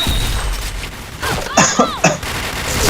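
Gunfire from a shooter video game snaps out in a few sharp, closely spaced bursts over steady background noise, loud and near.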